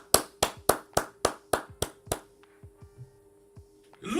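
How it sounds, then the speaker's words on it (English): Nine crisp hand claps in an even rhythm, close and sharp, followed by a few fainter taps and a louder rustle at the end. "Give your own self an applaud."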